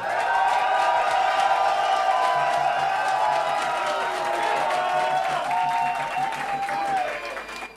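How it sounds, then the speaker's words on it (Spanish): A talent show studio audience applauds and cheers in a dense, continuous wash of clapping over a sustained musical backing, loud and close throughout before easing slightly at the end. "Que sean fuertes los aplausos para Omar Leiva."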